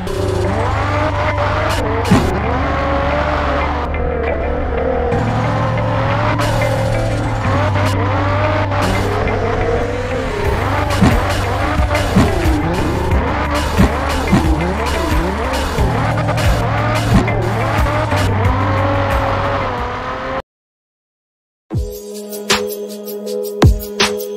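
All-wheel-drive car drifting through corners in the Assoluto Racing game, with loud, sustained tire squeal over a droning engine for about twenty seconds, then a brief silence and a short burst of different sound.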